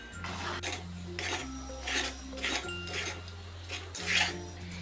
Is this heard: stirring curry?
yes